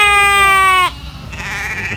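A single goat at a goat market in Lhokseumawe lets out a loud, nasal, quavering bleat close by, then it breaks off into quieter market background.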